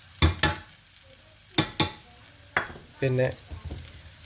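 A spoon scrapes and clanks in a pan as chili powder, turmeric and salt are stirred in, giving a few sharp, separate strokes over a faint sizzle, with a brief word spoken.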